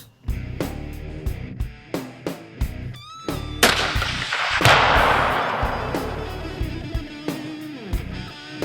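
Loud gunfire at a long-range target, with sharp cracks in a steady run and one heavier blast that trails off into a long rumbling wash, all close by and with no talking over it.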